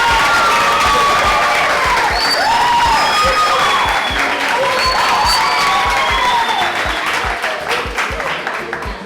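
Loud, sustained audience applause and cheering on a podcast set, greeting an arriving guest; dense clapping with excited shouts and whistles running throughout before tapering slightly at the end.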